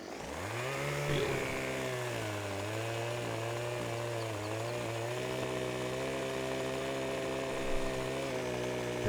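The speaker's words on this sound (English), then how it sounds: "What we need is a higher power chainsaw to go through these logs faster." A chainsaw cutting logs in the farming game Farming Simulator 17, a loud steady engine drone with rising and falling pitch as the blade works through the wood, heard alone.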